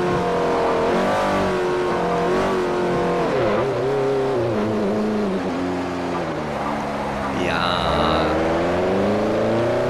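A Saleen S5S engine pulls hard in second gear in the Forza 4 racing game, its revving note climbing and falling through shifts, with a brief tire squeal near the end and faint talk underneath.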